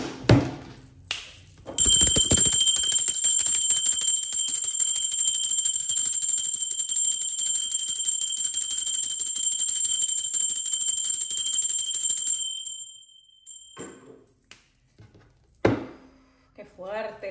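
A bell or chime struck once and left ringing loud and steady for about ten seconds, with bright sustained tones that then cut off, preceded and followed by brief Spanish talk.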